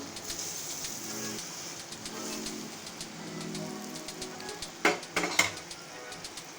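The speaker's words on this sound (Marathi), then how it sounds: "चमच्याने असे मिक्स करून घ्यायचं आहे।" A spoon stirs hot melted ghee into flour for sweet shankarpali dough, giving a steady gritty scraping with soft clinks against the bowl and a couple of sharper knocks near the end.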